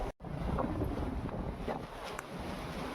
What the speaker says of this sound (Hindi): अभी देखो कितनी तेज हवा चल रही है भाई